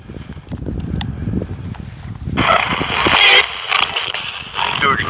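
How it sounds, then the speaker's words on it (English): A spirit box radio cycles rapidly through stations. It starts with low murmuring and a faint voice, then a loud rush of static switches on midway, laced with brief warbling tones and chirps. "it's a normal radio, but the stations get cycled through rapidly"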